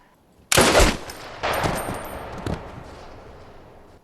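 Gunfire rings out in a mountain scene of the war drama Band of Brothers: a loud sharp shot followed by two more cracks about a second apart, each echoing and slowly decaying with no voices over it.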